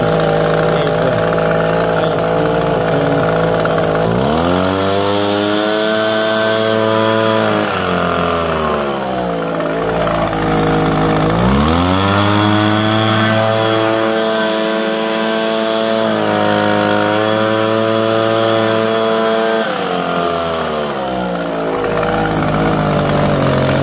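A repaired Echo PB-250 leaf blower's small two-stroke engine runs close and loud, repeatedly revving up and dropping back to idle in long, wavering surges with no voices.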